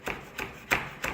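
A knife chops West Indian thyme for Jamaican-style jerk pork in four crisp, evenly spaced strokes, close and distinct, with no voices.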